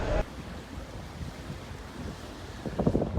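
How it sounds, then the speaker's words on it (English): Wind buffets the microphone on the deck of a cruise ship sailing away from Dakar, Senegal, with a steady rushing of waves and air beneath and a brief louder gust at the start and end. "So that's sailing away from Dakar in Senegal."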